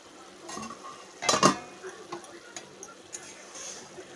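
A metal lid is lifted off a pan of small fish cooking with purple yam, giving a brief clattering scrape followed by light metallic taps and a faint sizzle, close by.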